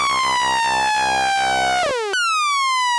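A Roland Jupiter-8 synthesizer plays a bright, buzzy sustained tone that pulses with envelope modulation, then drops, cuts out briefly and returns with a rising pitch sweep.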